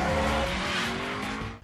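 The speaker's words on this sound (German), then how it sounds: "eine Szene aus Fast and Furious 2 an, wo Paul Walker mit dem Retourgang auf der Autobahn fährt" A car in a Fast and Furious 2 highway scene, driven in reverse, roars close and loud with a steady engine drone and tire squeal that cuts off abruptly at the end, with no speech.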